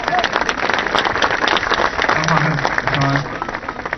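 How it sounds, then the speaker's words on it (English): Crowd applause at a public homecoming celebration in Ballydesmond, steady clapping from many hands for about four seconds, with a few voices and low murmurs mixed in. "Big round of applause for Tom."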